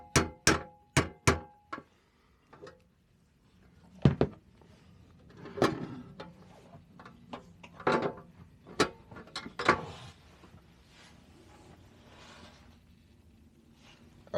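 Sharp metallic taps of a hammer on a metal part of a 1960s-70s roadworks paraffin lamp in a quick series of four, then irregular knocks and clunks spaced apart, close by with quiet gaps between.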